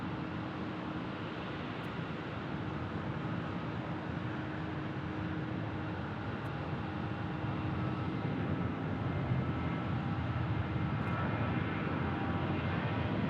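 A Delta Boeing 757 airliner on a runway at Phoenix Sky Harbor produces a steady, broad jet-engine roar at moderate distance, holding constant and swelling slightly toward the end, with no talking.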